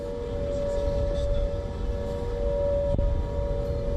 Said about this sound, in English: air raid sirens blared in the background